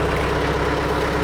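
A tractor engine idles with a low, steady rumble while driving a wood chipper through a 540 PTO; the sound is close and continuous, with no voices.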